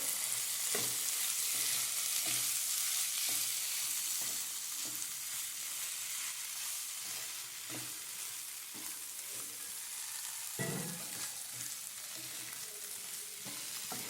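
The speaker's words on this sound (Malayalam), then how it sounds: "ഇനി നമുക്ക് വെളിച്ചെണ്ണ പച്ച വെളിച്ചെണ്ണ കേട്ടോ അത് അവനവൻ്റെ ആവശ്യത്തിനനുസരിച്ച് ഒഴിച്ചു കൊടുക്കുള്ളൂ" Drumstick and egg dish frying in coconut oil in a pan, a steady close sizzle with occasional stirring scrapes, no talk.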